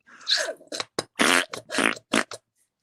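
A series of wet, sputtering squirts from an upside-down acrylic paint bottle, about seven short bursts that sound like fart noises, close and fairly loud.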